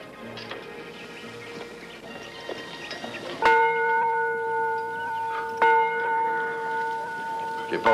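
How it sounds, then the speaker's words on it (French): A church bell rings out loud and clear from about three and a half seconds, with one strong strike and then a second about two seconds later, each leaving a long humming ring. Softer sounds and faint ringing come before it. "Jeune homme, fais sonner la cloche."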